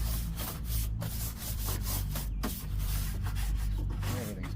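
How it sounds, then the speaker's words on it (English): Steady bristle brushing scrubs across plastic surfaces in a car engine bay, a continuous close rubbing swish with a few brief pauses and a low hum underneath. "let's get a nice general brushing with this one"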